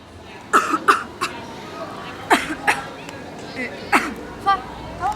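Someone with a dry throat coughs several times in short, sharp bursts, fairly close, with scattered throat noises and a faint murmur of other voices between the coughs.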